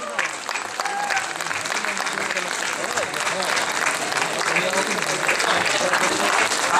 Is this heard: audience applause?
yes